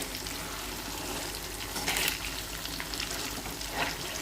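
Hot oil frying after something is let into it, a continuous close sizzle with a brief louder crackling burst partway through.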